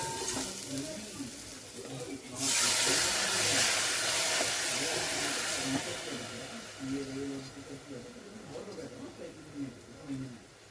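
Lentils (dal) tipped into a hot pan of spiced oil with chilli powder, giving a sudden loud frying sizzle that swells then slowly settles, with a voice speaking over the sizzle.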